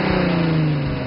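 A 2010 Hyundai Genesis Coupe's optional 3.8-liter 306-horsepower V6, fed through a short ram intake and venting through a high-flow dual-outlet exhaust, holds a steady, loud engine drone close by for about a second with no talking.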